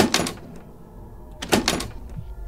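Locked doors in an indie horror game are rattled in two separate bursts of clattering, each about half a second long, against a quiet, dark background.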